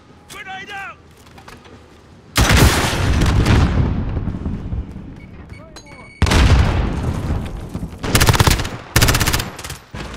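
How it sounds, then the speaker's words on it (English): Explosions and heavy automatic gunfire boom through Call of Duty Modern Warfare multiplayer, loud bursts arriving in several waves, with a brief voice heard early. "Grenade out!"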